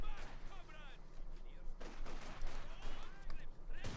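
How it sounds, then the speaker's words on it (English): Infantry combat from the video game Company of Heroes 2, with incendiary grenades exchanged: a fairly faint, steady wash of rattling gunfire and bursts under a voice talking, with a few brief sharper cracks. "Incendiary grenade exchange here between Tobis and WhorunBartertown's infantry"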